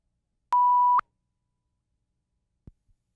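A phone in an interview room gives a single clear electronic beep tone lasting about half a second, then goes quiet except for two faint soft knocks.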